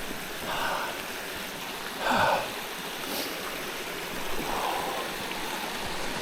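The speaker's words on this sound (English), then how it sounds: "It's pretty loud running water." A stream rushes loudly in Algonquin Park backcountry near Little Hardy Lake, its constant close roar broken by a few breathy gasps and puffs from someone nearby.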